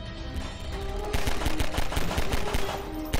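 Rapid gunfire in Garry's Mod during a Fright Night horror session, as a steady stream of loud, closely spaced shots rattles almost continuously, growing denser after the first second.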